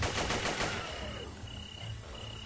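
Rapid automatic gunfire in the video game Zomborg, a dense rattling burst that fades over a couple of seconds amid game background sound.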